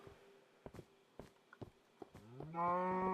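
Cattle in the Minecraft video game let out a sustained low moo near the end, preceded by a series of soft scattered footstep-like taps.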